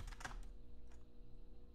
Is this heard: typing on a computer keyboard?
yes